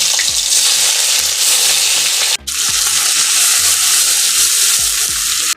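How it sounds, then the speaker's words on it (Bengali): Chopped onion fries in hot mustard oil in a wok with whole garam masala and nigella seeds, giving a loud continuous sizzle with occasional stirring scrapes and knocks, briefly interrupted once. "পেঁয়াজ ভাজা আমি বসিয়ে দিয়েছি"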